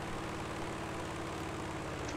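Continuous droning propeller airplane engine in a video game, a steady low hum with no breaks, faint and unvarying throughout.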